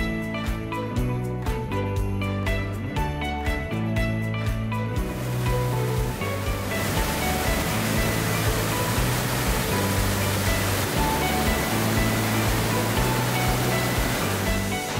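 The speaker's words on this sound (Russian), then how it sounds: "Водопад обалденный" A steady, roaring rush of falling water from a waterfall in Goiás, Brazil fills the scene, with music playing at the start before the water's constant noise takes over.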